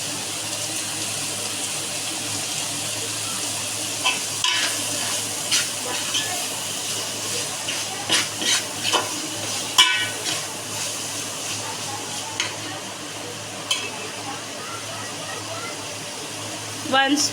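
Green masala tempering fries in a pan for a Goan beef and pork stew, a steady broadband sizzle and hiss with scattered small spatters and pops throughout.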